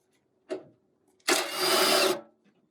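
A power tool running in reverse on the fender bolts of an Acura Integra at a wrecking yard gives a short whir, then a longer loud whine of about a second, close and alone.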